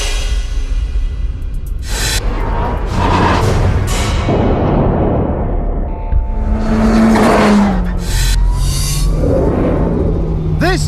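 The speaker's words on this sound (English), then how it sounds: "This turbo makes the most gorgeous noise." A turbocharged car engine revs hard, climbing and falling in several loud surges with whistling turbo spool and sharp bursts between the pulls, up close and dominant throughout.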